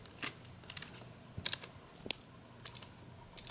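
Computer keyboard keys pressed to enter the Ctrl Shift B shortcut in Chrome: a few sharp, quiet clicks in short clusters, with faint room hiss between them and no talking.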